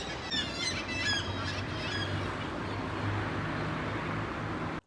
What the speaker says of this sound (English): which are the seagulls